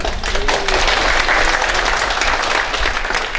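Audience applause for the programmers standing in the second row at a game funding talk in Surabaya, a dense, steady wash of many hands clapping close by, holding loud throughout.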